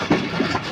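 Freight train rolling along a railway line that runs straight to a fertilizer plant in Pakistan, heard as a steady, moderately loud rumble with faint clattering, no voices over it.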